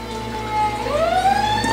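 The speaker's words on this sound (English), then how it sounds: "the ambulance just ran by my house" An ambulance siren heard from inside a house as it passes, a brief rising wail with bright harmonics that swells over a low background hum.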